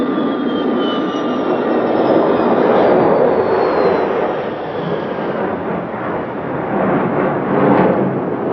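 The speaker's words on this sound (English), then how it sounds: "The Tu-144 made 3 passes over the airfield." A Tupolev Tu-144 supersonic airliner passes over an airfield, its loud sustained jet roar swelling and fading with a thin falling whine, heard from the ground with no voices.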